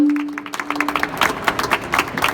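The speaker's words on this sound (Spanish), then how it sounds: "Le pido un aplauso para don Hipólito." Audience at a book presentation breaking into applause, scattered claps building from sparse to denser, fairly close and unaccompanied by talk.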